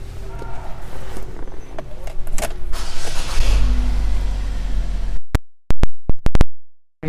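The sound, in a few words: 2017 GMC Terrain Denali power moonroof opening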